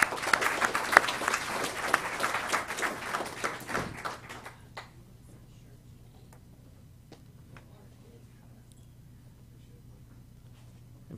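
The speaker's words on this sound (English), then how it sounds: "let's please give him a round of applause" An audience claps at a signing day ceremony at TCAT Hohenwald. Brisk applause fills about four seconds, then thins to a few scattered claps and taps over a low room hum.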